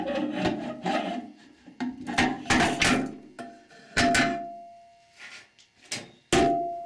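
Rotating assembly being pulled out of a Chrysler 46RE automatic transmission case, a series of close scraping, rubbing and knocking sounds of metal parts, irregular bursts separated by short quiet gaps.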